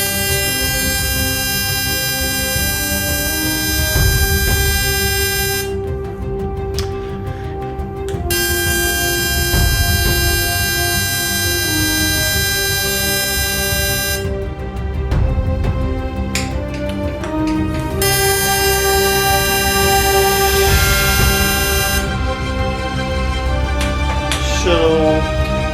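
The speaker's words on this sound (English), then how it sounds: "So the sound you're hearing is not the Tesla coil itself, it's the 100 Hz sound." A pulse-driven ZVS Tesla coil gives off a loud, steady 100 Hz buzz with stacked tonal harmonics, holding continuously for about 26 seconds and shifting slightly in tone several times.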